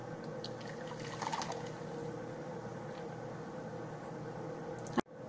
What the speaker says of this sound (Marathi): आता या पॅन मध्ये काढून घेते ताक।